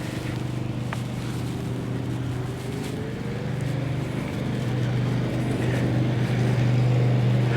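A DYU C9 electric bike riding on pedal assist level 1, a steady whirring drone with constant road and wind rush that slowly grows a little louder; no voices.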